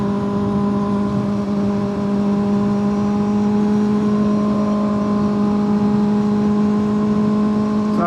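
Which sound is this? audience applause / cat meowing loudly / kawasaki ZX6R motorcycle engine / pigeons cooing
kawasaki ZX6R motorcycle engine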